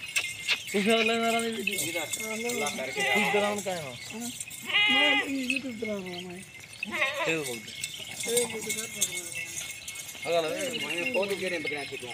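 Several pregnant Ghulabi Rajanpuri goats bleat repeatedly at close range in a pen, their wavering calls rising and falling over one another alongside faint metallic jingles.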